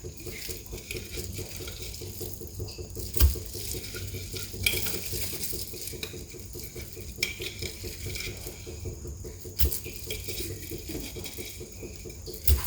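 Salt stirred and dry-roasted in a pan for a second round gives a steady gritty scraping and rustle, with an occasional clink of a utensil against the pan.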